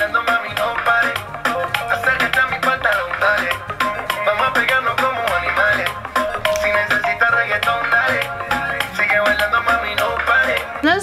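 A reggaeton song plays from a laptop, a continuous beat with melody and vocals at moderate volume throughout, with no one talking over it.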